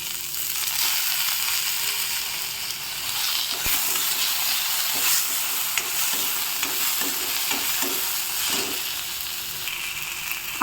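Onions and tomatoes fry in a pan for baingan bharta, a steady loud sizzle and hiss with a spoon stirring and scraping at intervals, up close and without talk.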